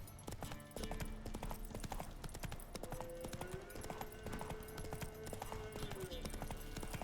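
Hooves of the horse Roach in a video game, a rapid rhythmic clip-clop running almost throughout, with a brief whinny-like tone in the middle and game sounds around it.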